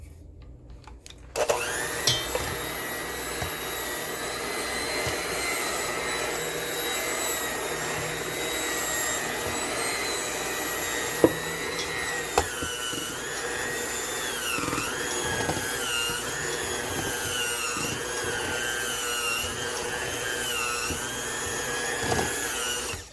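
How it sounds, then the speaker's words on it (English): An electric stand mixer, a KitchenAid, works flour into a fruit cake batter in an overfull bowl, giving a steady loud motor whine with shifting pitch that runs nearly the whole time after a quiet start, with no talking. "So I'm just going to continue mixing my flour into my batter."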